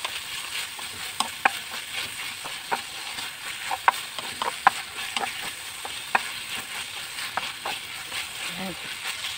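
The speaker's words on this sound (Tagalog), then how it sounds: "Tapos malagay tayo ng oyster sauce. So, isang pouch lang na ganito kalaki. Yan, haluin natin." A spoon stirs a dish in a hot pan after oyster sauce is added, giving a steady sizzle with regular scraping clicks and taps throughout and no voices.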